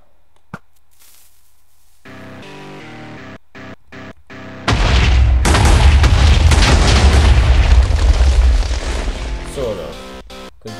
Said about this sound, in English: chained explosions today